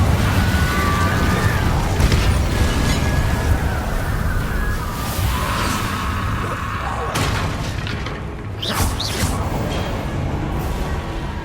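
An Incendio fire spell from Hogwarts Legacy gives a dense, roaring, fiery rush with booming bursts and crackling flares layered over it, loud and continuous throughout.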